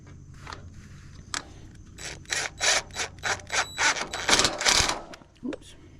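A self-tapping screw is driven into metal on a utility trailer, a series of about eight rhythmic ratcheting grinds in quick bursts, close and fairly loud against a low background hum.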